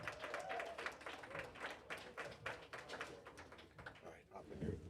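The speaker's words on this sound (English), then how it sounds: "Give them a round of applause." At a fight night finals event, onlookers clap for the second-place finishers, a faint, scattered round of applause with individual claps audible and voices mixed in.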